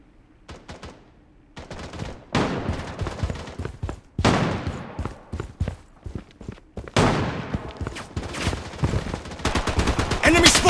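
Bursts of automatic rifle fire from a first-person shooter game, Project BloodStrike, including an AK-47, come in repeated loud volleys with short gaps and close, dense rattling.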